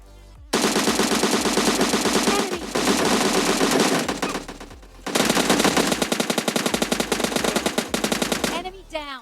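M4 rifle fire in a shooter video game comes as two long, loud, rapid automatic bursts split by a short pause, with a sharp cutoff near the end.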